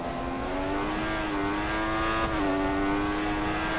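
Formula 1 car from the F1 2014 video game, racing in Malaysia, holds a loud, high-pitched engine note that climbs steadily, dips briefly at a gear change, and climbs again, close and with no talking.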